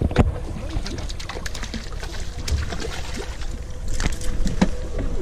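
Boat engine running with its propeller turning, aboard a fishing and spearfishing boat out at sea for dorado and amberjack; a steady, rumbling drone with splashing water throughout, near and fairly loud, swelling slightly toward the end.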